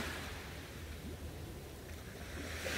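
Gentle ocean waves breaking offshore and lapping up onto a sandy beach at dawn, a soft steady wash of surf with low rumble, fairly faint and continuous with no voices.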